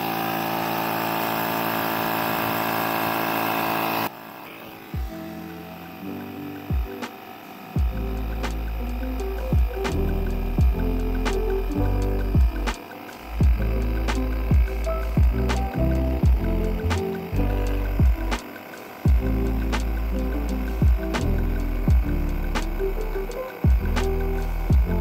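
A small handheld micro tire inflator runs steadily while pumping a car tire up to 32 PSI, a continuous mechanical buzz with rapid rhythmic ticking pulses, fairly close and loud, after a brief louder burst at the start.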